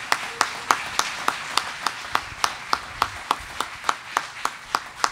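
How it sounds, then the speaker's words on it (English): A church congregation claps together in a steady unison beat, sharp evenly spaced hand claps roughly four per second, moderately loud and close, with no talking over them. "Why don't you give Miss Claire a hand clap as she comes."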